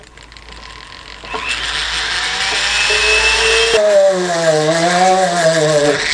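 A small 1.5 mm drill bit bores into a diecast Caterpillar D11N model bulldozer at an angle. A high whine starts and rises, then settles into a steady, wavering motor pitch.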